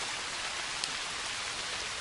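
Rain falls steadily in the woods during an archery deer hunt, a soft, even hiss of drops on leaves and ground with one brief closer tap, with no talking.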